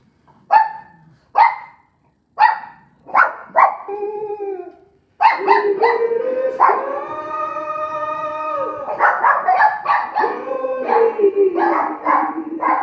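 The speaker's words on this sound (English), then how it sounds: "There go the dogs." Dogs bark in a room in Jamestown: several sharp, separate barks in a slow rhythm, then a run of loud howling and yipping from more than one dog, moderately close.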